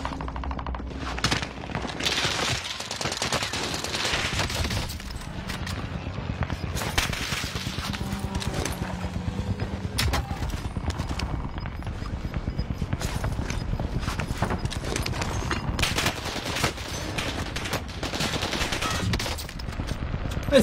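Rapid automatic gunfire from the Modern Warfare 2 beta on PlayStation, dense bursts of shots with game effects running continuously and fairly loud throughout, with no talk over them.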